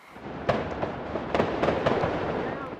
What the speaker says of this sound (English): there was more sustained gunfire